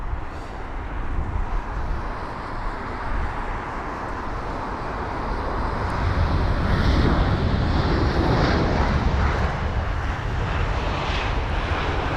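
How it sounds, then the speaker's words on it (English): A British Airways Airbus A319 inbound from Marseille lands at London Heathrow on a windy day, its jet roar steady and broad, swelling louder midway through as it passes close, with wind buffeting the microphone. "this is from Marseille, this A319 with flight number BA367"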